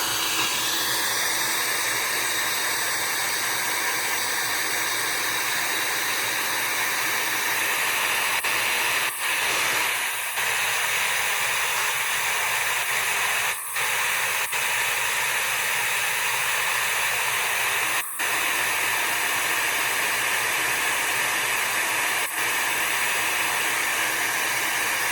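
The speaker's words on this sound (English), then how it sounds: "Alright, so I have to turn on the heat gun." A heat gun blows with a steady, close hissing roar for the whole stretch, broken only by a few faint clicks, with no talk over it.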